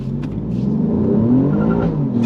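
A 2024 Alfa Romeo Giulia Quadrifoglio in race mode accelerates hard, its engine revving up in a steady rising growl, close and loud.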